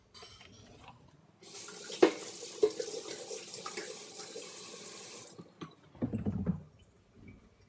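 Aeropress parts rinsed under a running tap at a sink, water gushing steadily for several seconds with a few clinks of plastic pieces, then brief handling sounds as the flow stops.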